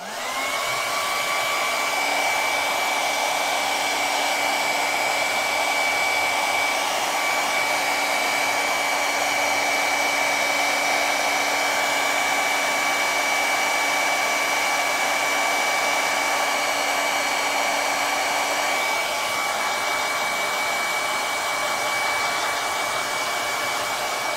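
A hair dryer blows steadily on wet paint while grapes are painted, a loud, close, continuous whoosh with a constant motor whine that holds for over twenty seconds before easing slightly near the end. No voices are heard.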